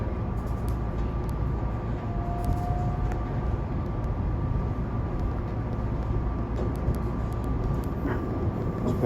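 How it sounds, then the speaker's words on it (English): A freight train rumbles past in the distance, a steady low rolling roar heard from inside a SEPTA Silverliner V railcar riding from 30th Street Station toward Chestnut Hill West, with faint clicks over the continuous drone. "There's a freight train up there."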